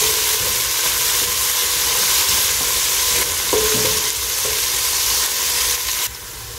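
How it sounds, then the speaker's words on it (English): Spring onions fry in a pan with a steady, close sizzle and hiss, broken by a few brief stirring scrapes, running continuously without talk. "So I'll just fry them."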